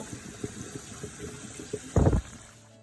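Cooked pasta drained through a colander in a home kitchen: faint soft clatter, then a short loud gush of water pouring out for about a quarter second before fading.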